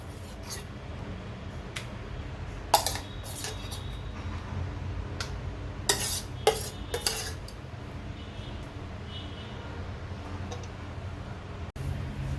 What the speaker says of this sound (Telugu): గోంగూర వేసిన తర్వాత వీటిని ఒకసారి మెత్తగా నూరుకోవాలి.